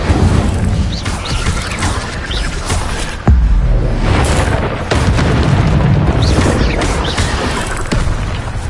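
Sustained roaring, crackling blasts of the Incendio fire spell in Hogwarts Legacy, loud and dense throughout with a heavy boom near the middle, no talking.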